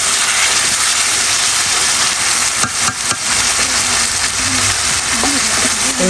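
Fried potatoes go into a pan of cooking meat, and the pan gives off a very loud, dense, continuous sizzle and hiss close up, with voices talking faintly under it.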